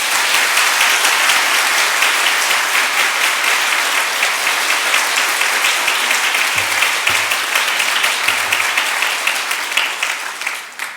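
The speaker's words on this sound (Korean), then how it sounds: "또 힘차게 격려의 박수로" A church congregation gives sustained, loud applause welcoming a visiting elder to preach, dense clapping filling the room evenly for about eleven seconds before tapering off at the end.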